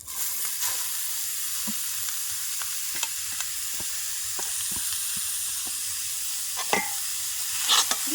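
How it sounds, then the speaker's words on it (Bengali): Grated amla fries with nigella and fennel seeds in a hot pan, a steady sizzling hiss broken by scattered light clicks and scrapes of stirring, close and continuous, with no talking. "এগুলোকে ভেজে নেব এবারে এর মধ্যে আমি গ্রেট করে রাখা আমলকিটা দিয়ে দিচ্ছি"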